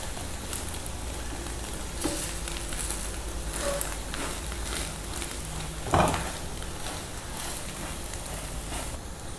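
Zucchini and egg omelette frying in a pan, a steady broadband sizzle throughout with a louder burst of crackle near the middle as it is turned, no voices.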